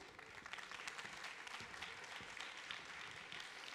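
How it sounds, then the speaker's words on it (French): Applause at an awards ceremony as a foundation president is called up, steady dense clapping from a sizeable audience throughout, fairly distant and even. "Applaudissez-le."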